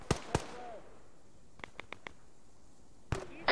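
Sharp explosive blasts from a video game rocket launcher with back blast: two loud bangs close together, a spaced cluster of lighter pops, then another heavy blast near the end.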